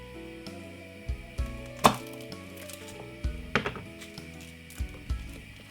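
A knife chops garlic on a cutting board in a steady series of close, crisp thunks, heard alone against a faint musical background.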